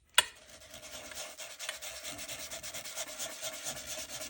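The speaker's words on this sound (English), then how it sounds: "so when you sand it, you get that craft coming through" Steady, soft scratchy rubbing of a sanding disc against a paper edge, continuous for a few seconds after a small initial tap, quiet and close.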